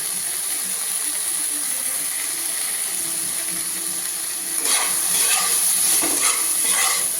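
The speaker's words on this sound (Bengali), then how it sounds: "টমেটো দিয়ে একটু ভালো করে নাড়াচাড়া করে নেব" Tomatoes fry in a pan with a steady sizzle, and partway through the sound swells as they are stirred, the spoon scraping in a few rhythmic strokes.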